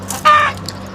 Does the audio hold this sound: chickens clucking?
yes